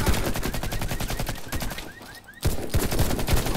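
Rapid bursts of automatic gunfire in the shooter game Warface rattle loudly and close, a brief lull, then more sustained shooting resumes, with synthetic-sounding effects.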